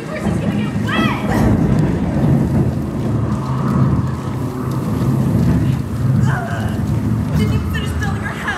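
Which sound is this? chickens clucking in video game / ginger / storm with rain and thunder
storm with rain and thunder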